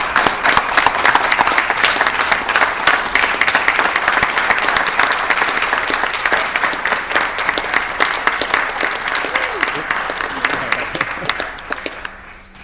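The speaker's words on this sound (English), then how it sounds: "Let's give them one more round of applause." Applause for honoured students at a school board meeting: a dense, steady round of clapping from a room of people, loud and continuous for about twelve seconds before tapering off at the end.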